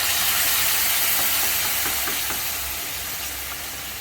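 Spice paste hits a pan of frying potatoes with a loud, continuous hissing sizzle that starts at full strength and eases gradually over a few seconds, with no voices.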